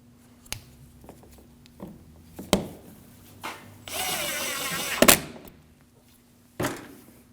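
A power tool drives screws through a license plate bracket into the bumper cover of a 2016-2022 Honda Pilot, heard as scattered close clicks and knocks, then a whirring burst of about a second ending in a sharp snap.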